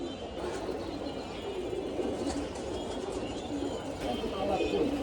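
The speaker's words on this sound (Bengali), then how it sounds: "অনেক সুন্দর কবুতর" Pigeons coo softly among other bird chirps in a rooftop loft, a low murmuring layer of calls mixed with faint voices in the background.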